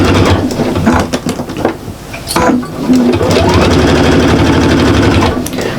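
A sewing machine stitches a half-inch seam on a shopper bag, running fast and close with a rapid rhythmic chatter, pausing briefly once before continuing.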